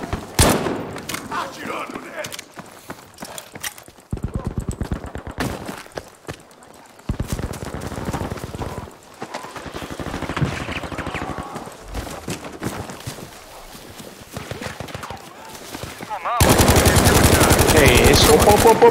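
Rapid bursts of automatic gunfire in a shooter video game, loud and repeated in clusters throughout, with players talking over the shooting and a dense burst near the end.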